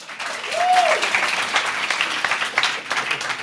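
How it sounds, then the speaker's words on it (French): Audience applause at a church gathering, a dense wash of clapping that swells and holds steady for a few seconds, with a brief whistle-like tone near the start. "On peut l'applaudir"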